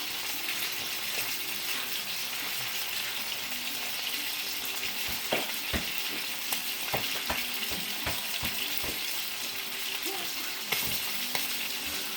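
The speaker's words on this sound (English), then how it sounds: "this piece of meat, that should be seared on that side by now" Beef for a Beef Wellington sears in a hot pan with a steady, even sizzle throughout, broken by scattered sharp clicks and light taps, with no one speaking.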